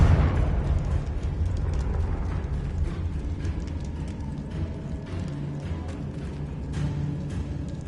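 Explosive fire spell cast in Hogwarts Legacy, a dense rumbling blast with crackling debris that sustains at steady loudness through the whole stretch, with clicking mechanical textures layered over the low roar.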